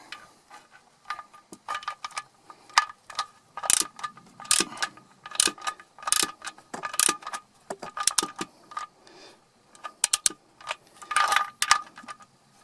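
A wrench tightens the oil drain plug on a Peugeot 206 HDI during an oil change, with repeated sharp metallic ratcheting clicks in irregular bursts close to the mic, with no talking.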